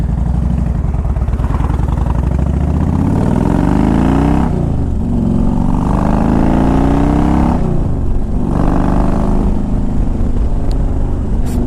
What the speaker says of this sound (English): This bike's got a good smooth power band, revs up good.